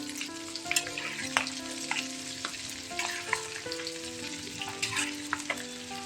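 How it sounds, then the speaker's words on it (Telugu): Keema balls frying in oil while being stirred slowly, a steady close sizzle with occasional scrapes and clinks of the spoon, no voices. "నెమ్మదిగా తిప్పుకోవాలి ఇట్లా."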